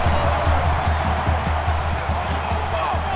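A stadium crowd roars in an NCAA Football video game, Miami Hurricanes vs LSU Tigers, with a steady, loud wash of cheering throughout and faint rhythmic thumps underneath.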